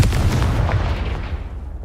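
In Hogwarts Legacy, a Confringo fire spell bursts into a loud, booming explosion with a rumbling low roar that fades out over about two seconds, with no voices.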